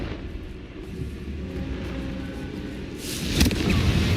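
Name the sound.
Confringo fire blast spell in the Hogwarts Legacy video game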